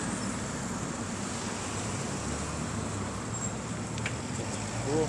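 Steady traffic on a busy Saturday road beside sewer pipe construction, a continuous broadband roar of many passing cars with no gaps, fairly close and loud throughout.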